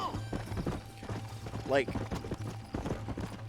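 Horse hooves clip-clop in Red Dead Redemption 2, with a horse whinny partway through, all under steady talk from a person in the clip.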